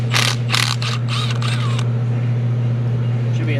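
A ratchet spins off a 13 mm nut on a 2011 VW Jetta 2.5 during a vacuum pump job, giving several quick clicking bursts over a steady hum, then the clicking stops.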